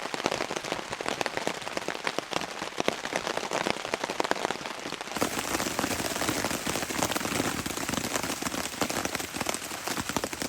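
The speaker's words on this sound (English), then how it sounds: "this rain seems fairly serious for the moment" Heavy rain pours steadily on a campsite, a dense continuous hiss of drops pattering on surfaces that grows louder and fuller halfway through, with no talking.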